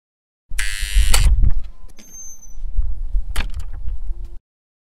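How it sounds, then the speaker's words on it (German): A courtyard door is opened and shut: a loud rattling clatter, then a thin squeak of hinges, a dull knock and further rattling as it closes, all close by. "Das war die Hoftür."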